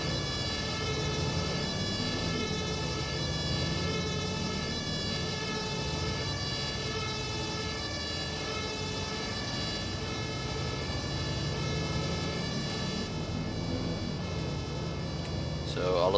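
An emergency vehicle siren wails steadily and loudly at a road accident with a trapped person and possible fire. It keeps up without a break over heavy traffic and engine noise, and voices can be heard in the background.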